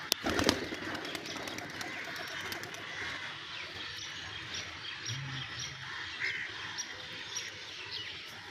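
A pigeon coos softly close by in a quiet outdoor setting, with a burst of wing flapping at the start and a few faint chirps over low background noise.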